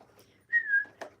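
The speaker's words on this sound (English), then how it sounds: "I haven't whistled in a while." A person whistles a brief tune close to the microphone, a short sliding pitched note followed by a quick chirp, in an otherwise quiet room.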